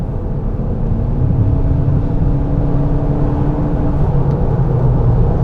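A 2021 Hyundai Elantra N Line cruising on a highway, with a steady, loud low rumble of engine and road noise, plus a faint rising drone partway through and no voices.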